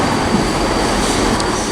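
A South Western Railway class 158 diesel train pulls away from Southampton Central, a loud, close, continuous rumble of engine and wheels with a brief high squeal near the end.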